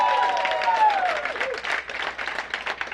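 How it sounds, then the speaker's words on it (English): A crowd at a minimum wage rally applauds steadily, dense clapping spread evenly throughout, with a few faint voices and whoops mixed in. "give her a big round of applause."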